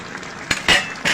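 Metal spoon scraping and clinking against a pot while Malabar spinach curry with ilish fish is stirred, a few short bright scrapes in quick succession, close and fairly loud.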